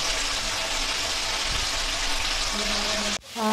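Fish omelette fries in a pan with a loud, steady, hissing sizzle that cuts off briefly near the end before resuming.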